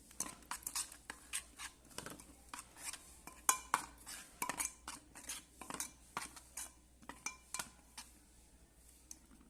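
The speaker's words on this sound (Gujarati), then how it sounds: "તો હવે આપણે આ બેટરને મિક્સ કરીશું" Rice and chana dal dhokla batter being mixed in a bowl, a quick irregular run of spoon clinks and scrapes against the vessel, close and fairly quiet with no talk.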